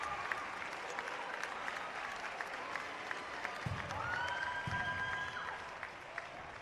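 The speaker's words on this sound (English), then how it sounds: "there's your halftime entertainment on the Golden Gems halftime show, and a standing ovation" A crowd gives a standing ovation at the Golden Gems halftime show during a high school boys basketball game against Ozark, with steady, dense clapping filling the gym and a few whistle-like tones rising over it.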